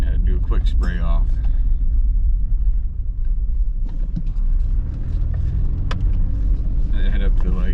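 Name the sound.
Ford Mustang V6 accelerating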